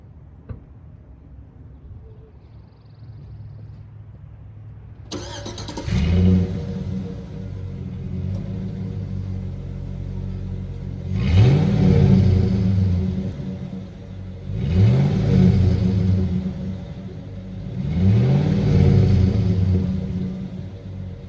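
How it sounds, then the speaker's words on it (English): A loud, raw car engine with its muffler removed idles with a rumble, then revs sharply three times in a row, each burst roaring up and settling back down. "Let me give y'all a few revs just to show you how it sounds right now"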